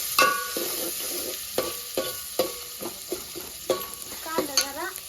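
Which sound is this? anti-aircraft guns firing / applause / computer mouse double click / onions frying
onions frying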